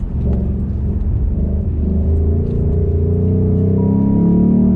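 A Ford GT's V8 droning on a wet race track, a loud, steady low rumble that rises slightly in pitch as the car accelerates, heard from close by with no talking.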